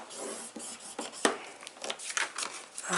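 Paper for a homemade gift box is scored at close range, giving soft scratchy rubbing strokes with a few sharper taps, quiet and irregular with no voices.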